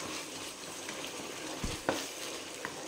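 Paneer bhurji hisses softly in a pan, a low, even sizzle with a few brief stirring knocks and scrapes, close up and fairly quiet, no voices.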